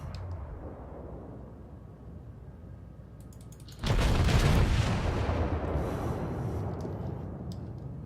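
Naval guns fire a salvo in World of Warships, a sudden heavy boom that swells and rolls out over several seconds above steady game ambience, with no talk.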